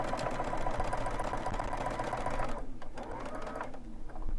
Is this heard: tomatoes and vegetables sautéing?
no